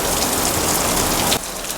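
Hail and rain drum loudly and densely on stretched plastic film, then the roar drops abruptly to a softer patter near the end.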